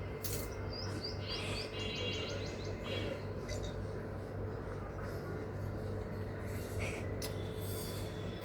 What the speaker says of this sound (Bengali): কিরে তোর টিয়াও পুষিস?